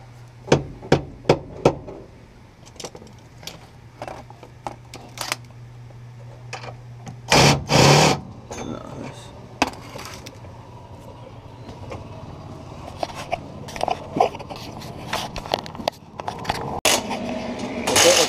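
Sharp hammer strikes ring out while replacing shock absorbers on a 1997 Honda Civic, first a quick series of evenly spaced blows, then scattered knocks with clattering and a brief scrape between them.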